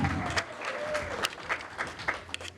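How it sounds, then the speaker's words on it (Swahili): A crowd at a Congolese youth party in Baltimore claps to welcome a group leader forward, with steady applause and scattered cheers running through under a lively room and some background voices. "Tumsaidie kupiga makofi akaribia hapa."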